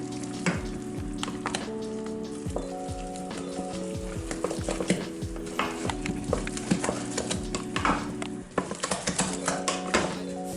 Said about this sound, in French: Quand c'est à ébullition, on va venir verser la farine dedans. Mélanger jusqu'à ne plus voir de farine.